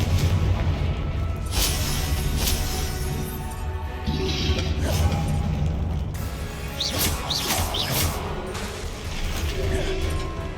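Confringo blasting spell explosions in the Hogwarts Legacy video game, dense combat audio with booming impacts, mechanical clatter and a steady loud rumble throughout, with several sharp bursts layered over a continuous backdrop.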